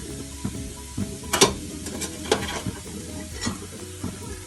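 Boiled, squeezed cluster beans stirred into frying lentil usili in a pan, a close sizzle under repeated scraping strokes of a spoon, with a few sharper clatters of metal.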